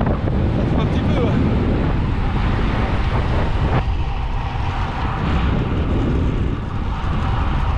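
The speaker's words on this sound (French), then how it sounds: "il y a un gros vent de face pour la montée" Strong headwind on a cycling circuit during a reconnaissance lap for a 24-hour bike race at Le Mans, a loud continuous roar of wind buffeting the microphone throughout.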